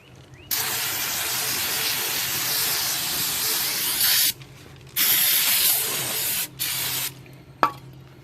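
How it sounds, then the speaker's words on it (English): Aerosol brake cleaner sprays in long hissing bursts onto the oil pan of an Acura or Honda Integra/Civic engine, three sustained blasts separated by short pauses, close and loud, ending with a brief click. "I'll hit this with some brake clean"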